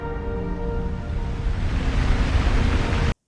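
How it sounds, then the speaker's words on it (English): Waterfall in the Lord of the Rings: Fellowship of the Ring film, a steady loud rushing roar of falling water that holds constant and then cuts off abruptly, with no speech. "That's a waterfall."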